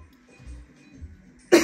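A single short, sharp cough comes near the end, close and fairly loud after a quiet stretch of faint background noise.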